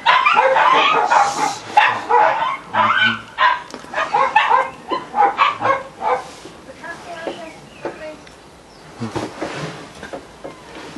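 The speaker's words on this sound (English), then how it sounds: "I think Stella, my cat, is winding the dogs up" Several dogs bark in rapid, excited bursts over about eleven seconds, loud and close. The barking tapers into scattered yips, and someone talks over part of it.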